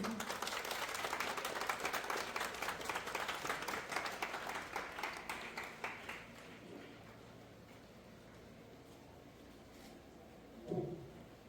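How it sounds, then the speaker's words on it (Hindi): Applause at a government school event in Greater Noida, Uttar Pradesh: a burst of clapping rolls along for several seconds, fades away, and leaves a quiet room with only faint background noise. "जोरदार तालियां दी।"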